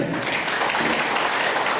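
Applause at a school batch reunion of Government High School, Baruva, a dense, even wash of clapping from a gathered group, loud and continuous throughout.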